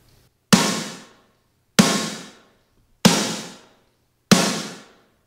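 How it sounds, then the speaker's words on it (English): Isolated snare drum track: four single snare hits, evenly spaced about 1.3 seconds apart, each sharp and close with a decaying ring, alone with no other sound. "The snare track sounds like this if you play it just by itself."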